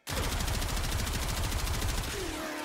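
Gotva Prime rifle fire in the video game Warframe, a dense, rapid automatic burst that starts suddenly and rattles on continuously for over two seconds at high volume, with a brief tonal chirp near the end.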